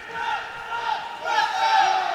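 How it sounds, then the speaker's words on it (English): A crowd cheers and shouts at a varsity men's volleyball match, a loud, sustained roar of many voices that swells in a second wave partway through. "This is a great crowd."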